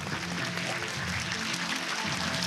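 Steady, dense clapping from a theater audience greeting the director and cast, including Dean Fujioka, at a stage appearance for the film Pure Japanese, an unbroken crowd wash at even volume.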